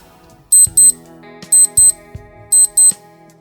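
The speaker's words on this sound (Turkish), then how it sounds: "Alarmı da bu şekilde çalıyor." A Kenko KK-613D digital timer clock alarm beeps in quick pairs, three sets of sharp, high electronic double beeps with short gaps between them, loud and close.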